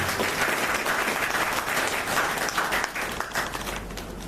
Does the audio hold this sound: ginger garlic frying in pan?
no